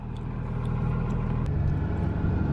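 A 24-valve Cummins diesel truck engine starts cold and rumbles steadily and loudly at close range, its low idle shifting slightly partway through, with no voices.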